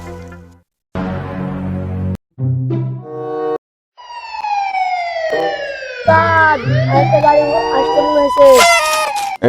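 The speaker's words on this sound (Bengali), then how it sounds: "আওয়াজ শুনে মনে হচ্ছে পুলিশের গাড়ি" A police car siren begins with a few short tonal bursts and then rises into a loud, sweeping wail that grows more intense, heard close by with some background noise.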